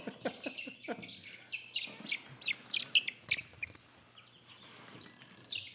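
Chickens kept in a podcast room cluck and chirp in a run of quick, fairly faint calls, with no talking over them.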